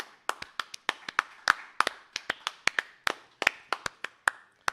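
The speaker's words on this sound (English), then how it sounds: "Let's clap it up." Crisp, close hand claps in a quick, uneven rhythm, about twenty sharp slaps from what sounds like one or two people, with no talking.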